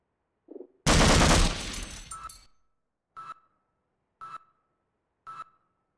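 Gunfire in the video game Half-Life: a short thump, then a loud dense burst of shooting that fades over about a second, then three evenly spaced single sharp shots with ringing tails. No talk over it.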